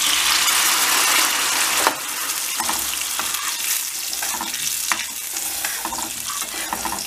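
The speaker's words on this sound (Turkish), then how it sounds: "Şimdi buna bir çay kat, bir çay bardağı su ilave edeceğiz arkadaşlar" A tea glass of water hits a hot pan of sizzling red pepper and spices, with a loud hissing burst that settles into steady frying and bubbling, close up and with no talk.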